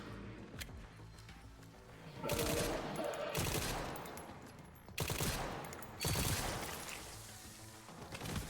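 Matilda handgun fire in the Resident Evil Requiem video game, a series of loud sharp shots in close succession with dense game action between bursts.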